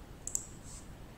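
A computer mouse gives two quick, faint clicks close together against near silence.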